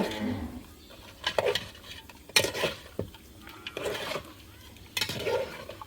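Around 1.5 kg of mutton is stirred in a cooking pot at home, with metal utensil clanks and scrapes in bursts over a low sizzle.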